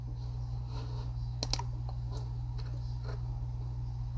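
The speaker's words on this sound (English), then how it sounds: "Sorry if you hear the mouse." A computer mouse clicks a few times in quick succession while scrolling, faint sharp ticks set against a steady low electrical hum in a quiet room.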